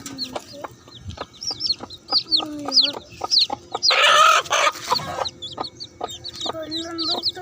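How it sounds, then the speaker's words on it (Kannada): A hen clucks low and steadily among her chicks, whose high, thin peeps chirp repeatedly close by, with a brief burst of rustling noise in the middle and a voice faintly in the background. "ಇದೇ ಕೋಳಿ ಫ್ರೆಂಡ್ಸ್ ಮರಿ ಹಾಕಿರೋದು"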